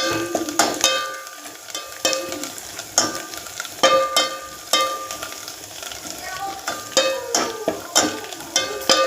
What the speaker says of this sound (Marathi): चांगला मसाला भाजून द्या. तेल सुटेपर्यंत टाकायचा आहे मसाला.